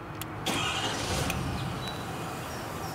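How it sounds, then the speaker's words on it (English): A truck engine on a truck fitted with a crane cranks and catches, then settles into a steady low idle nearby. "So we can start our truck"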